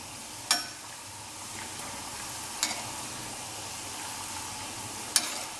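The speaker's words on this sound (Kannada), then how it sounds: "ಮೀಡಿಯಮ್ ಫ್ಲೇಮಲ್ಲಿ ಬ್ರೌನ್ ಆಗೋ ತನಕ flip and fly, flip and fry ಮಾಡಿ ಹುರಿಬೇಕು" Sabudana vada fry in oil over a medium flame, a gentle continuous bubbling sizzle broken by three sharp clicks as the vadas are flipped.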